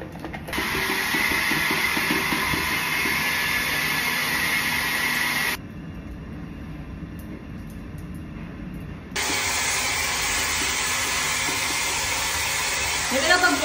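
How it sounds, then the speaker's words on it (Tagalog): Hair dryer blowing in a cruise-ship cabin in Thailand, a loud steady whooshing roar that drops to a quieter setting for a few seconds, then returns to full power, close and continuous. "Ito na pag-blower tayo."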